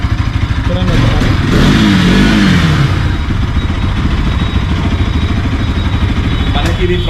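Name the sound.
motorcycle engine revving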